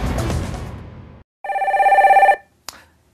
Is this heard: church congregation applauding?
no